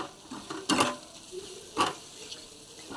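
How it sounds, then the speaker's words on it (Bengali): Spice masala mixed with gram flour (besan) being stirred in a pan, two distinct scraping strokes over a soft sizzle, close and alone. "এটা দিয়ে আবার আরেকবার নাড়িয়ে নেব সুন্দর করে"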